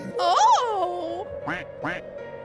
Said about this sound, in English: A duck quack!